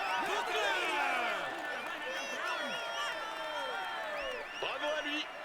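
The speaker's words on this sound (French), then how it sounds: "Mesdames et messieurs, applaudissez-le bien fort." A roadside crowd cheers and applauds Kevin Vauquelin, winner of the Amiens–Rouen stage of the 2025 Tour de France, with a dense, loud wash of shouts and whistles running throughout.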